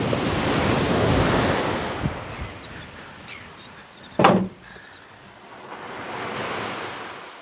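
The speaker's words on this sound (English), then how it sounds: "Now the waves are starting to come in." Surf rolls in on an Australian beach, with waves swelling into a broad wash, easing off, then building again under wind gusts. A single sharp knock lands midway, and no voices are heard.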